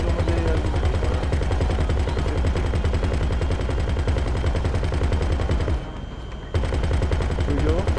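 Gunfire in GTA 5 Online on Xbox One: sustained rapid automatic shooting rattling almost nonstop and loud, with a brief lull near the end before the bursts resume.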